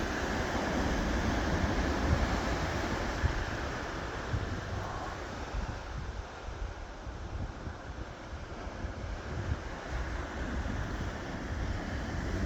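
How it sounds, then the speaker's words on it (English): Rough ocean surf rolls and crashes in a continuous loud wash, mixed with gusty wind buffeting the microphone, with no voices over it. "I know the waves are mad, but I think it actually adds to the view here."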